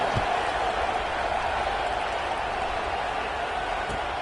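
A stadium crowd at a Utah vs Missouri college football game, a steady dense roar of murmuring fans after a score, continuous and even with no distinct cheers standing out.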